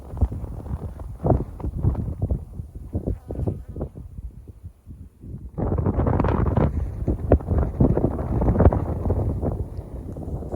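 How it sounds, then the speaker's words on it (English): Strong wind buffets the microphone outdoors by open pasture in a steady low roar, easing briefly midway before gusting back harder and louder for the rest. "hopefully you can hear me because it's really windy today"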